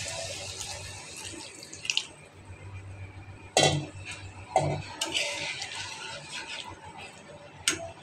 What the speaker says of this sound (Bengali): এখন দিয়ে দেবো একটু পানি।